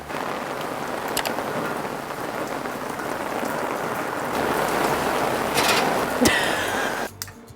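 Steady rain falling outdoors during a barbecue smoking session, a dense even hiss of drops on surfaces that swells slightly near the end before cutting off abruptly.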